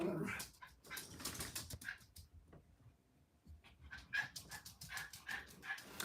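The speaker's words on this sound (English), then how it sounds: "I hope he don't get us put out with all this barking." A dog barks and whimpers indoors in a townhouse, loud and close, with bursts of yelps at the start, a brief lull, then a fresh run of repeated sharp barks.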